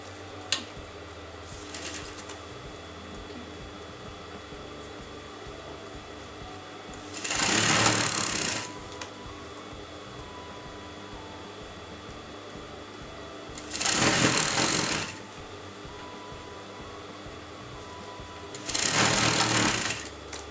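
Sewing machine stitching a frock with a sweetheart neckline, three separate bursts of rapid whirring stitching, each a second or two long, with quiet pauses between them.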